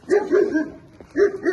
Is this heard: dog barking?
yes